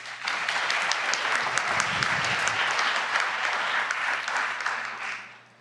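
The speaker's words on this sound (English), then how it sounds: "Let's give them a round of applause also." Audience at a student venture pitch competition applauding the judges, a full, steady round of clapping that holds for about five seconds before fading away.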